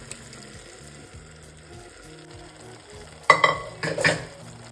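Lentils being added and stirred into cooked fenugreek leaves in a pan for methi pappu: a soft low simmer, then a burst of wet, squelching stirring and scraping near the end, with no talk.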